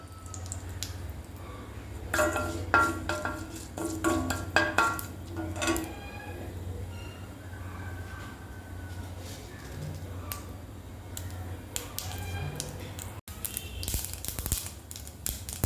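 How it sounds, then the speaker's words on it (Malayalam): Mustard seeds crackle and pop in hot oil, a steady scatter of sharp little bursts over a low hum, thickening in places, with no talking. "കടുക് നന്നായിട്ട് പൊട്ടി"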